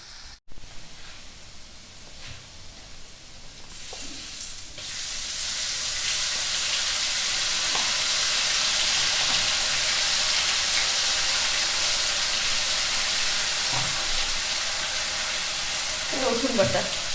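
Potatoes with salt and turmeric, then a paste of ginger, garlic, onion and cumin, sizzle and fry in hot oil, a steady loud hiss that swells after a few seconds and holds, with occasional stirring clatter.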